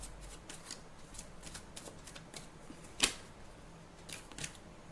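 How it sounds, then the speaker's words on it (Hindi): Tarot cards are shuffled by hand in a quick run of soft, papery flicks, with one sharper snap partway through, close and quiet, with no talking. "मैं पीछे शफल कर लेती हूँ, बिकॉज आगे मुझे बैठकर ऐसे हाथ करना पड़ता है, तो मैं पीछे शफल करके कार्ड निकाल देती हूँ"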